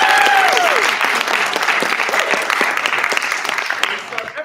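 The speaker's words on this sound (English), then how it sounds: "And let's clap Brett." Audience applause fills the room at a live show, a dense, steady burst of clapping that carries through and tapers off near the end, with a faint voice at the start.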